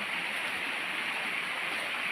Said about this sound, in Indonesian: Ini seperti ini, ada air mengalir